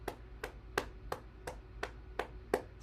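Hand clapping during a bouncing exercise: eight sharp, evenly spaced claps at a steady rhythm, close and fairly loud with a quiet background between them.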